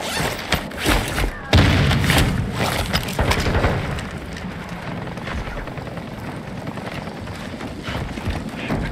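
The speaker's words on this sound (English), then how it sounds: "Throwing grenade!" A grenade in Call of Duty Warzone 2 going off with a single heavy close boom, followed by rumbling, debris-filled combat noise and scattered thuds.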